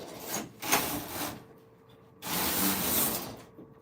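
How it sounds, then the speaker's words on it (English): A Silver Reed knitting machine head pushed along the needle bed, two long rasping, whooshing strokes with a brief pause between, close and moderately loud, no talk. "all you need to do is to pull and push the machine head on the needle bed"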